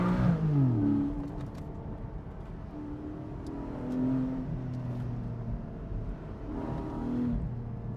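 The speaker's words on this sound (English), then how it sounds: "this gorgeous Flat-6." Porsche 718 Boxster GTS 4.0 flat-six heard from the open-top cabin on a Southern California drive, rising and falling through a few revving pulls with shifting engine tones over steady road noise.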